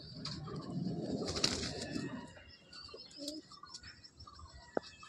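Domestic pigeons in a loft coo softly, with a burst of rustling wing and body movement at first, then quieter scattered coos and small knocks.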